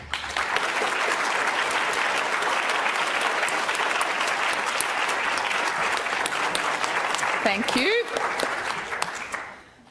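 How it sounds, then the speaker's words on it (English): Audience at a conference debate applauds to vote for the team arguing for, a dense sustained clapping filling the room for most of the stretch before fading out, with a brief spoken word near the end. "those people who think that the for team won the debate, please clap"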